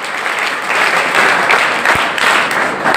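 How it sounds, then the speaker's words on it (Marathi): Loud, dense applause fills a school send-off and good-wishes ceremony for SSC/HSC students at Mahatma Gandhi Vidyalaya, Khanapur, as the crowd claps for the headmaster in a steady, sustained wash that swells slightly midway. "एकदा जोरदार आदरणीय गाडे साहेबांसाठी टाळ्या होऊ द्या."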